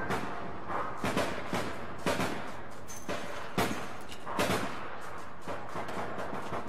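Enemy gunfire in the game APB Reloaded, loud repeated bursts of shots arriving roughly every second, each a sharp crack with a short tail, with no talk over them.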